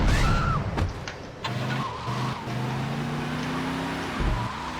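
Car engine revving and tires skidding during a chase in the video game GTA Vice City, with sustained engine drone, shifting pitch and brief tire squeals, loud and close with no talk.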